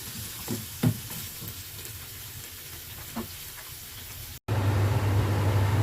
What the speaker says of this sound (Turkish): Patlıcanlarımız kızardı.